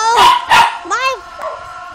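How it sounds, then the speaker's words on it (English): A dog barks twice in quick succession, then gives a rising whine and a softer yip, close and loud. "now she's gonna bark for the whole rest of the video"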